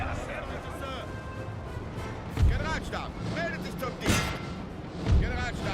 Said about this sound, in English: the artillery is opening up on their artillery, I would guess